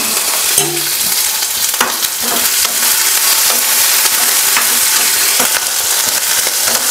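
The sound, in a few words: tempering mustard, garlic, curry leaves and onion in oil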